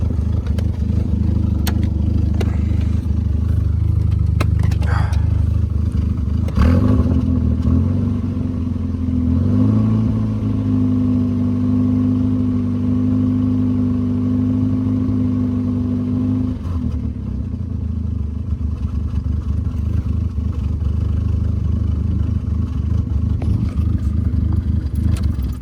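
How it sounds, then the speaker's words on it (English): A Mk4 Volkswagen Jetta 1.8T engine idles rough after its fault codes are cleared, a loud low droning hum that rises into a steadier, uneven tone midway, then settles back down with some clatter. "Car starts running like shit"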